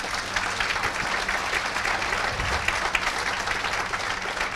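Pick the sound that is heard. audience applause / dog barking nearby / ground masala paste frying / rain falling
audience applause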